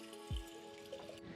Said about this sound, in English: This little tap you can drink from.